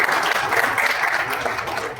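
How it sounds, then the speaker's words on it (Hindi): An audience at a research proposal writing workshop applauds, a dense, steady burst of clapping that stays loud and close throughout. "अभी मुझे ताली बजाइए।"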